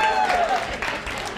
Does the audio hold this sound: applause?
yes